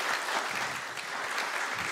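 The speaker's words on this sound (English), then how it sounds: "But to you and to them, an applaud." Audience applause after a presentation at an economics institute event, a steady dense wash of clapping that holds for about two seconds at even loudness with no talk over it.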